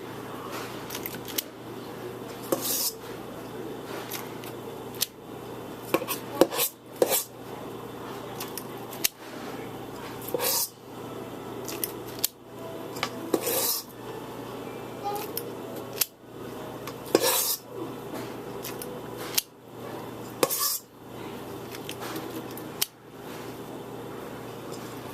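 Cake batter for a gluten-free, egg-free cake is scooped into pans with a scooper, giving intermittent metallic clicks and scrapes, close and fairly sharp, separated by quieter pauses.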